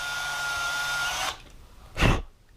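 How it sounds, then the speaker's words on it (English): A small drill with a 1/32 bit cleans glue and paint out of the holes in a die-cast model truck. It whirs steadily up close for over a second, then stops, followed by a short thump. "take a 1/32 bit and just drill out the holes where those go"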